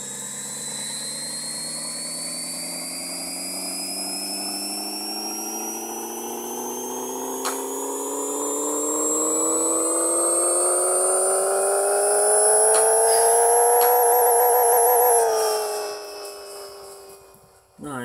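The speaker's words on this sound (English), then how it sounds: "watch the RPMs when I floor it before I start the dyno real quick" A tuned car engine in the Pixel Car Racer game revs steadily upward on a dyno, its whine climbing in pitch for about fifteen seconds before cutting off abruptly, with brief speech underneath.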